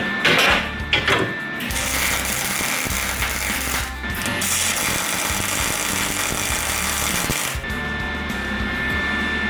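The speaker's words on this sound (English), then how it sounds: "Now I'm going to kind of weld up the outside of this a little bit" A welder lays a bead welding a nut onto the frame of a ZF5-swapped Bronco, a continuous loud crackling hiss running nearly unbroken after a few brief sputters at the start.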